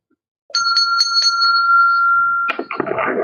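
A cat rings a small bell, a bright metallic ding struck several times in quick succession and left ringing, with rustling and movement noise close by afterward.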